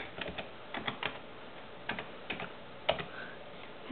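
Sparse keystrokes on a computer keyboard as a password is entered, irregular light clicks in small clusters, close and fairly quiet with no talking.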